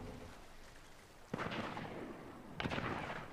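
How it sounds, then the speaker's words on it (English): Two booming cannon shots from the video game Fortnite, each a sudden loud blast with a rumbling tail, about a second apart, over a steady background hiss with no talking. "Stop firing the cannon a minute."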